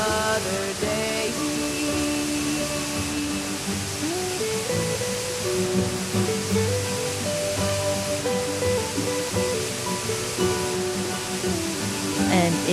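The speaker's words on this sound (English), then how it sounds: "As water begins to rush over the wheel" Water rushing over a 1926 Fitz water wheel at Hanford Mills, a steady loud wash of spray and splashing, continuous throughout with low rumbling beneath and tonal music layered over it.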